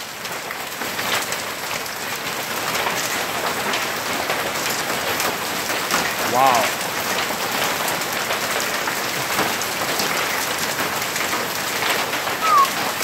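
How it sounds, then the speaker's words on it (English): Hail comes down hard and fast outdoors, a loud, dense, continuous clatter of pellets striking surfaces, with a brief exclaimed word from a man partway through. "That's hail coming down hard and faster than rain."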